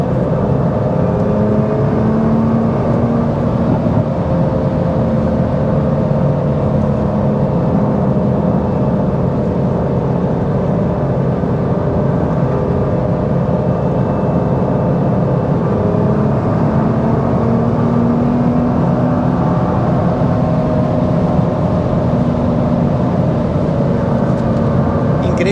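A 2023 Nissan GT-R R35 taken through curves at high speed, its engine a steady loud whir with rising and falling tones, continuous throughout with no talking.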